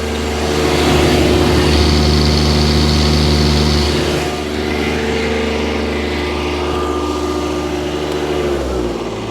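Shindaiwa welder generator engine running steadily at full revs, recorded close up, a loud continuous drone that dips slightly partway through and then holds.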